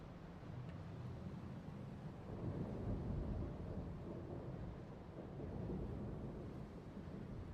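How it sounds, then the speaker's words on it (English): Deep, continuous rumbling thunder in the Dark Souls game, a low rolling roar that swells and fades without breaks and has no voices over it. "I never noticed like the thunder around here. Did you ever hear this thunder?"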